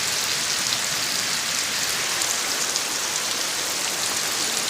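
Heavy rain pours down in an Odisha village, a dense, unbroken hiss of drops striking surfaces at an even, loud level with no voices.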